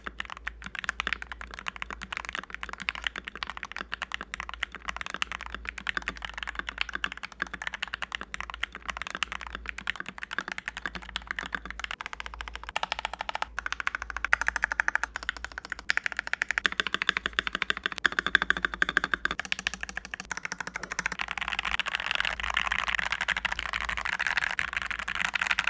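Continuous typing on an MK870 custom mechanical keyboard with a painter's tape mod, rapid soft clacking keystrokes close up, with the tone shifting partway through as if the keyboard setup changes; no voices.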